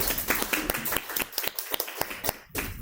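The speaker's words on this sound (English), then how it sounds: "please give a round of applause for our speaker today" A room full of people at a Toastmasters meeting clapping for a speaker, dense and steady applause with a few sharper individual claps standing out.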